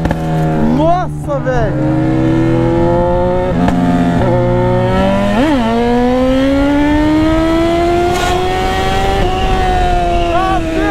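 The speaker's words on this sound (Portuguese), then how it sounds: "fiquei até com medo de acelerar essa moto" A Honda CB1000 motorcycle engine revs hard several times, pitch climbing sharply and dropping back, then rising steadily as it accelerates.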